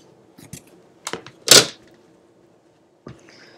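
Fabric pieces for a paper-pieced quilt block are trimmed in a few sharp, close cutting strokes with a ruler shifted between them, then quiet.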